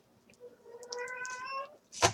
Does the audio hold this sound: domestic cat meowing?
yes